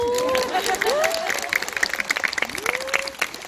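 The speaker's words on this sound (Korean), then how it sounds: "박수." Applause from an audience at a music event, dense clapping with cheering voices and whoops mixed in, loud and sustained throughout.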